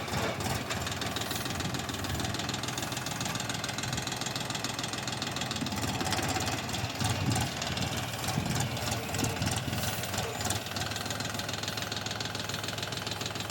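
A DTZ 354U tractor engine runs in third gear of the second range while pulling a disc harrow across a garden plot, giving a loud, close, continuous rumble with steady vibration and no pauses or talk.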